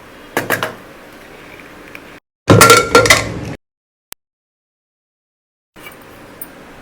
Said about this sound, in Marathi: कुकर पण थंड झालाय मी आता खोलून बघते आपले छोले शिजलेत का